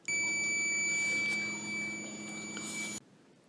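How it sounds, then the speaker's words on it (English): A LetPot MAX hydroponics system gives a long, steady high-pitched beep when switched on, loud and continuous for about three seconds over a faint hum, then stops abruptly. "When I turn it on, it gave a long beep for 5 seconds or so, and that's normal."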